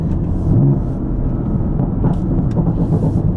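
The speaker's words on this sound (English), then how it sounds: "Like, the downshifts and the pops, that all sounds pretty cool to me." A BMW F80 M3 drones with a low, steady engine and road rumble from inside the cabin, a continuous mid-level hum without clear distinct pops.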